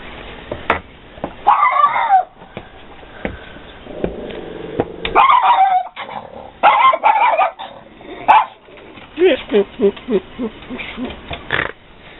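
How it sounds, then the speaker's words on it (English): A dog barks and yelps in bursts nearby, a series of sharp barks and whining hoots, fairly loud and alone. "Is that your guard dog?"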